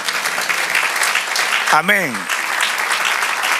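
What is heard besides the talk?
church congregation applauding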